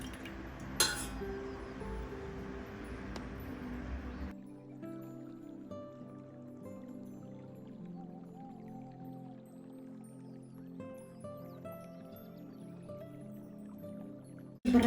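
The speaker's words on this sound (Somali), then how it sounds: "yani sonkortaan karkarinay ayaan korka uga shubayaa." Hot boiled sugar syrup is poured over kunafa, with a steady splashing pour at the start that gives way to quiet drips and faint clinks.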